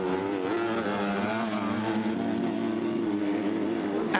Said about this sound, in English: Absolutely on the rev limiters there before they change gear